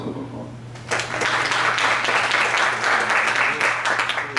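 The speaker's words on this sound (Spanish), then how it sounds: "Aplauso, por favor." An audience at a medical workshop in a hospital breaks into applause after a short quieter lead-in, a dense, steady clapping that carries on to the end.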